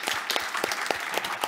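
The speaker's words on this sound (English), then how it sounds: "Can we give them a round of applause?" An audience claps for the booksellers at a panel event on parenting, a dense, lively round of applause with sharp individual claps popping out of the steady crowd clatter.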